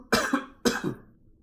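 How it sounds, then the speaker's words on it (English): A person coughs twice in quick succession, two sharp close bursts about half a second apart with no talking. "Sorry to be coughing."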